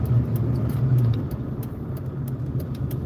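A tuned car on the road after a dyno session doing a 3,000 RPM clutch dump, a steady medium engine rumble and drone with a brief surge early, no one speaking.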